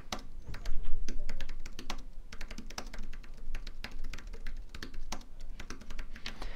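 Steady, close typing on a computer keyboard while status comments are entered into a Project Online report, with quick uneven bursts of sharp key clicks and a quiet room underneath.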